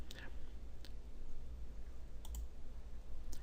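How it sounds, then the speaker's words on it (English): A computer mouse clicking a link on a Rockwell Automation help page, a few crisp, isolated clicks spaced apart over a low steady hum. "We'll go ahead and click on one of these"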